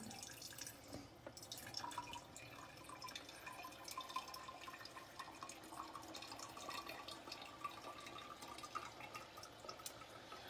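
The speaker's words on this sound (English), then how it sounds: "Then you just run the water and watch for this jug to start filling up." Water runs through an SD501 Kangen water ionizer into a jug, a faint steady trickle and patter of filling liquid with scattered small drips, no voices.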